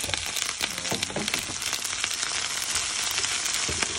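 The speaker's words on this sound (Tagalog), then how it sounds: "At i-mix natin yung broccoli." Broccoli with browned garlic and onion is stirred and fried in a pan, giving a loud, close, steady sizzle punctuated by scraping and clattering of the utensil against the pan, with no talk.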